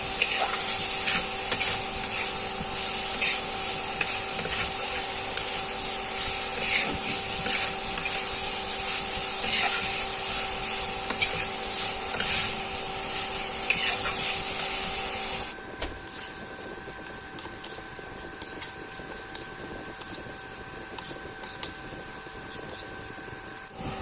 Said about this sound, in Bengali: এবার দিয়ে দেবো ভেজে রাখা আলু আলুটাকে মশলার সাথে ভালো করে কষিয়ে নেবো